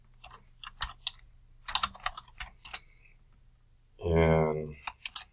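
Computer keyboard being typed on: scattered, quick key clicks in small clusters, close and fairly quiet, with a brief spoken word near the end.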